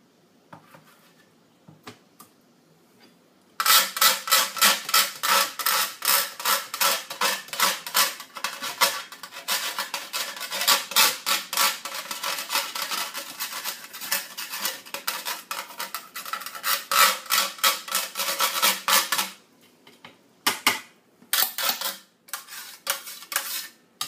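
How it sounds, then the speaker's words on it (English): Grating orange zest for gluten-free hot cross buns, a steady, close scraping rasp that runs continuously for about fifteen seconds and then breaks into a few short separate strokes. "Right, zest of orange. Scrape off what's left on the inside."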